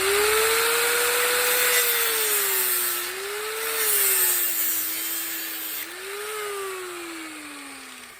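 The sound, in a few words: cutoff wheel cutting braided steel fuel line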